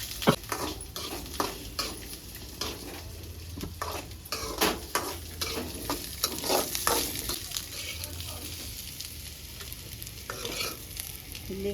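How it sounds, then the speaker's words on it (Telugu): Onions cut into large pieces sizzle in hot oil in a pan, with a steady frying hiss broken by frequent clinks and scrapes of stirring. "అది వేసి ఫ్రై చేసుకుందాం ఆయిల్ వేసుకొని."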